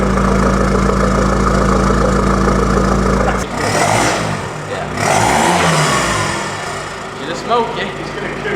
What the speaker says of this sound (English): It's definitely a diesel.